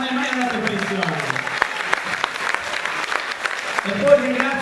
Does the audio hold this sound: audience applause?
yes